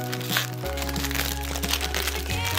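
Plastic wrap crinkles and crackles steadily as it is wrapped around a handmade Valentine's chocolate bouquet and tied with wire at the base, close and continuous over a low background hum.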